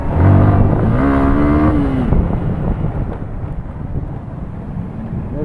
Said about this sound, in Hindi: जैसे ही क्लच छोड़ के एक्सीलेशन दे रहा हूँ ना तो वीली हो जा रही है